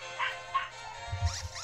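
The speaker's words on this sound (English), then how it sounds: "I hear puppies." Small puppy yips and whimpers from a Pokémon Ultra Sun game, short high-pitched calls repeating a few times over game music, with a low thump near the end.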